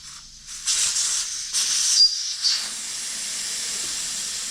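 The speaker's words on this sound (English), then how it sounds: "we got to get the air out of the tires" Air hisses out of a tire after the valve core is pulled, several close, loud bursts of hissing that settle into a softer, steady stream.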